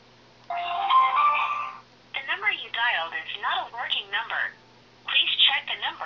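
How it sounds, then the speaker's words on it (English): A single tinny telephone tone sounds through the earpiece after calling an out-of-service number, followed by a recorded voice speaking over the phone line. "It's ringing"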